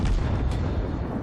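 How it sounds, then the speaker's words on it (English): Guns of the Sampson US destroyer firing in World of Warships, a loud, dense run of booming blasts that rumble on continuously without a break. "I'm happy firing away at this battleship"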